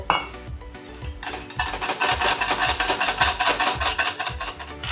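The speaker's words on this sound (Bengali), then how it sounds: "দুই তিন চামচ ক্রিম এটাকে ভালো করে মিশিয়ে এই যে আরেকটু স্টক দিয়ে এটাকে ভালো করে আগে মিশিয়ে নেব" A spoon stirs chicken stew with cream and stock in a pot, a steady rhythmic scraping and clinking of metal against the pot, close and fairly loud throughout.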